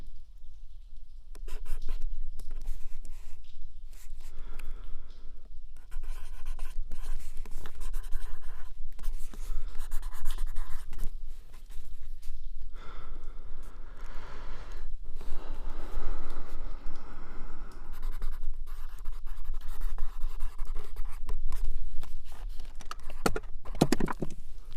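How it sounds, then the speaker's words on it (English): A pen scratches and taps across the paper of a dream journal in a long, close, continuous stretch of writing, with small pauses and paper rustles between strokes. "now we're gonna write this"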